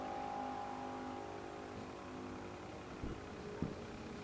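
A 1963 Corvette with a 615 cubic inch engine makes a Super Gas drag race run, a steady distant engine roar with a faint high whine, then two short louder bursts near the end.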